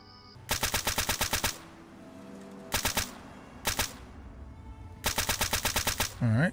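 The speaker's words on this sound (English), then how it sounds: "somebody's shooting at somebody or something" Video game gunfire in Fallout: Tale of Two Wastelands: several distinct bursts of rapid automatic fire, sharp and evenly spaced, with pauses between volleys and a short thump at the end, no talking.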